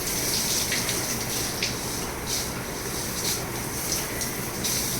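A hand shower sprays water at high pressure from a rain shower fitting, a loud, steady, dense hiss of gushing water that runs unbroken throughout, with faint spattering on a surface and no voices.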